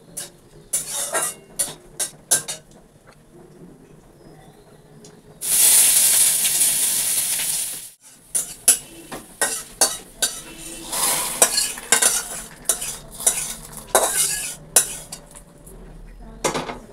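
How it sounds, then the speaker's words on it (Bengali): Washed dried red chillies and bay leaves, added with black cumin, sizzle in hot oil as a tempering for dal. A loud hissing burst rises in the middle, surrounded by stirring and clinks of utensils against the pan. "শুকনো লঙ্কা ধুয়ে নিয়েছি তো ফুটছে।"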